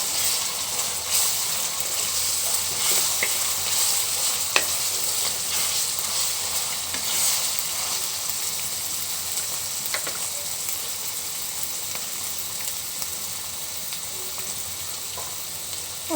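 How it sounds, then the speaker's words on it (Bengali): Ground spice paste sautéing with onions in a pan, a steady hissing sizzle with occasional soft stirring scrapes. "ভালো করে মশলাটা কষিয়ে নিব।"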